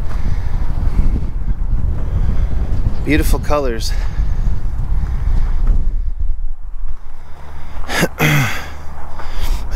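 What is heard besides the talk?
strong gusting wind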